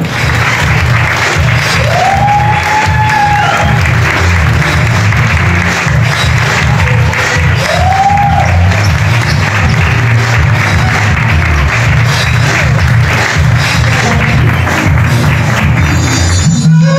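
A school audience at a fourth-grade end-of-year celebration gives loud, sustained applause that fills the whole stretch, with a couple of brief whistles over the clapping.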